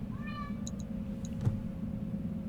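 A house cat gives a single short, faint meow near the start, over a quiet room hum with a few small clicks and a soft thump after it.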